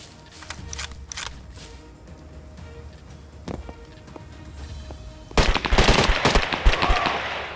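Gunfire in the Scum survival shooter game: scattered single shots and short bursts early on, then a loud, dense volley of rapid automatic fire near the end, with quiet ambient game sound between.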